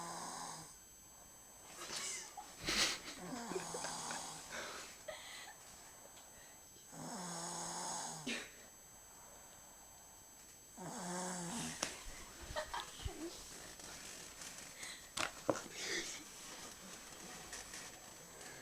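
A person snores in slow, rhythmic cycles of rasping, wheezy breaths, several long snores spaced a few seconds apart, close and fairly quiet under a steady background hiss.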